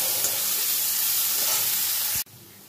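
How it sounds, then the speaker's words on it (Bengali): Chopped onion frying in hot oil gives a loud, steady, close sizzle that carries evenly for about two seconds before cutting off abruptly into near silence. "পেঁয়াজ কুচিটা একটু লাল লাল করে আমি ভেজে নেব।"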